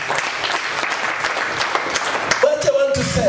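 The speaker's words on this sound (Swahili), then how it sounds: "Hebu mpe Yesu makofi utukufu sana" A church congregation claps vigorously together in a continuous burst of applause, with a voice rising briefly over the clapping near the end.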